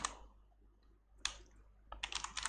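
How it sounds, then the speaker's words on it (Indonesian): Short bursts of computer keyboard typing as a web address is entered, a few quick clicking keystrokes separated by pauses, fairly quiet and close, with no talking. "di pencarian search bar kita ketikkan ayocaleg.com"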